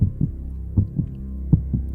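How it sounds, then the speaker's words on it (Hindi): Heartbeat sound effect for a Hindi horror story, set in an empty office bathroom: low, muffled thumps in a slow paired rhythm, several beats in a row, close and steady with a faint hum beneath. "सिद्धार्थ की धड़कनें और सांसें ही गूंज रही थी"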